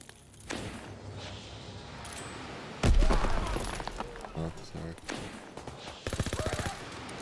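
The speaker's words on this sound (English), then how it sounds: "I gotta shoot your body just for good measure" Gunfire in Call of Duty WW2, sharp single shots and short bursts scattered among game voices, with one loud close blast near the middle followed by rapid popping shots toward the end.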